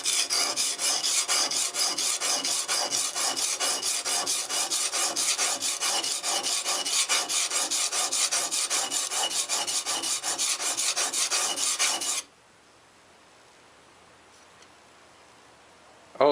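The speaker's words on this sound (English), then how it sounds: "I go back and forth until I feel a wire burr on the edge." A plane blade is honed back and forth on an oil stone, giving a fast, continuous rasping scrape with a steady rhythm for about twelve seconds, close and fairly loud, before it abruptly stops.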